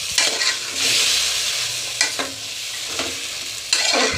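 A spatula stirs fried food in a pan with a few sharp scraping strokes over a soft, continuous sizzle, close and clear with no talking.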